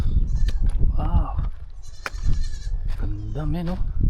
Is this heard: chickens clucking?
no